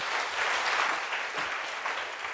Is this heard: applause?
yes